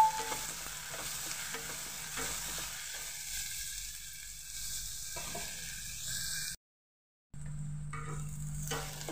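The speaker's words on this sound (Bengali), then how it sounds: "এখানে আমি দুটো পেঁয়াজকে ভাজা ভেজে কেটে রেখেছিলাম, দিয়ে দিলাম এবং সেটাকে ভেজে নেব।" Sliced onions sizzle softly in a pan for a Bengali pumpkin-and-egg dish, stirred now and then, with a quiet crackle that briefly drops out before resuming.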